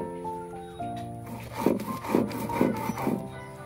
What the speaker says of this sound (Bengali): সরষার সঙ্গে যে লঙ্কাগুলো দিয়েছিলাম, তো সেই লঙ্কাটাও বেটে নিতে হবে